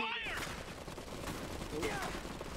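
Gunfire in the real-time strategy game Iron Harvest during a multiplayer battle: a dense, continuous crackle of shots under a steady din, with brief voice-like sweeps near the start and again near the two-second mark.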